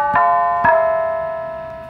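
A bell tone from an Olike hand roll piano toy rings twice in quick succession, bright and close, each strike leaving a sustained ringing that slowly fades.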